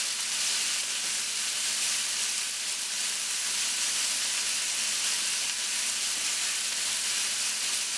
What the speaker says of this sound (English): So you want to give that a little bit of a sear.